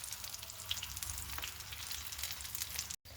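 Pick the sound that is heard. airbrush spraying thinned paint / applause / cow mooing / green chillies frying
green chillies frying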